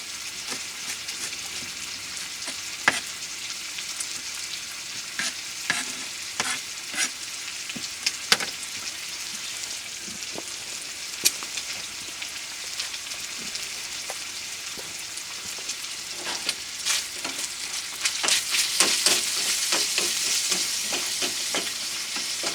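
Bacon fries in a pan with a steady crackling sizzle and scattered sharp pops throughout, growing somewhat louder and busier toward the end, with no talking.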